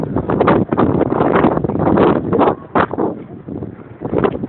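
Wind gusts outdoors at a breezy spot with ships nearby, roaring steadily and buffeting the microphone as a loud, continuous rush with brief dips.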